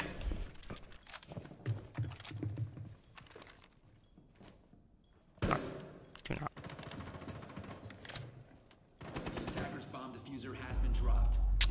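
Rapid video game gunfire crackles in dense bursts of repeated shots, loud and close, with several volleys and a heavy blast near the end, while a player talks over the action at times.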